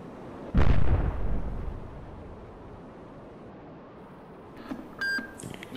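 A missile launch in the Cold Waters submarine game: one sudden loud blast that rumbles and fades over a second or two, followed a few seconds later by faint electronic beeps and small bursts.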